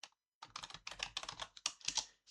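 A computer keyboard typed on at close range: a quick run of crisp, irregular key clicks after a short pause, with no voices.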